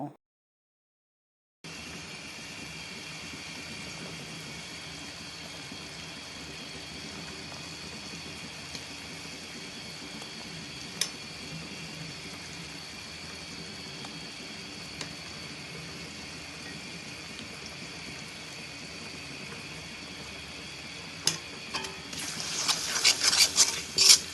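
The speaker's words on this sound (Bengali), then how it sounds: "পেঁয়াজ বাটা ও রসুন বাটা দিয়ে ভালো করে এই সব উপকরণ একসঙ্গে ভেজে নিব" Onion paste with ginger and garlic paste frying in a pan for liver bhuna, a steady soft sizzle and crackle running throughout, with light stirring clatter and louder scraping bursts near the end; no voices.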